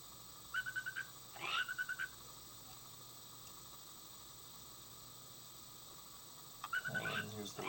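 Short repeated frog-call bursts, looped by concatenation, come as three quick croaking clusters near the start, a short pause, then a fourth cluster much later, faint and thin over a constant hiss, with long stretches of near-silence between.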